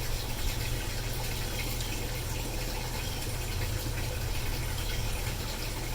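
Water rinsing soil off plant roots before planting in an aquaponics system, a steady close splashing gush running unbroken throughout.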